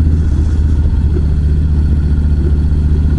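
A Harley-Davidson Street Bob motorcycle cruises at easy speed, its engine and muffler giving a loud, steady low rumble with a continuous throbbing pulse and no voices.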